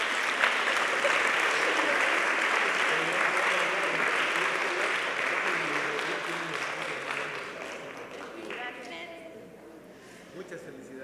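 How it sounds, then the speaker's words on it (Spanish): Sustained applause for the students at a university student forum and awards ceremony, a dense crowd clapping loudly for several seconds before slowly thinning out and fading toward the end. "Para todos ellos, un fuerte aplauso."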